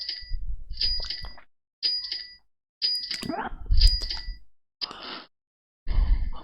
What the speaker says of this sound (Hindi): तो आपका टाइमर स्टार्ट होता है अब।